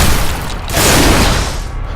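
A shotgun blast from the shooter video game Bodycount, a loud, dense boom with a broad roar that swells after a brief dip and then fades out.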